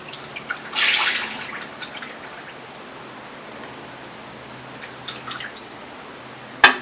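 A short splashing pour of liquid into a container close by, followed by a quiet stretch with a few faint trickles.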